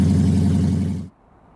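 A car on a small dealership lot, its catalytic converter stolen, roars loud and raw at close range for about a second before the sound cuts off abruptly.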